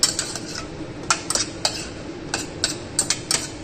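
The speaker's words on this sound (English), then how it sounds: "We have removed a little bit of the stock and we have added the rice. We're going to mix it together." Cooked rice is mixed with stock in a pot for Omani lamb kabuli, heard as a series of sharp metallic spoon clinks against the pot, spaced irregularly over a low background hum.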